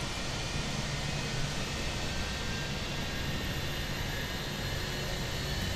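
Engine number two of an Airbus A320 spooling up in Microsoft Flight Simulator 2020, a steady dense broadband roar with a faint high whine, constant and loud with no talk.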